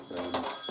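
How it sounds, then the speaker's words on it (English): A telephone rings close by and fairly loud in a workshop, a steady electronic trill that carries on for the whole moment with no talking over it. "Phone's ringing."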